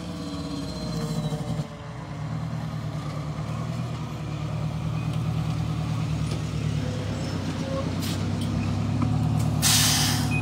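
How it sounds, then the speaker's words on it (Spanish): Two heavy fire trucks roll up to a burning bus on a highway, a steady diesel rumble with a hiss of air brakes near the end, loud and continuous. "Son dos camiones de bomberos los que están llegando en este preciso momento"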